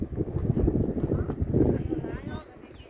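A horse walks near yurts at a mountain resort in the Alai Pamir area, its hooves clip-clopping in an uneven rhythm close by, with voices and some wind in the background.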